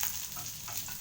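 Food, with onions mentioned, fries in a pan on a home stove, a faint, steady close sizzle with soft crackles over about a second.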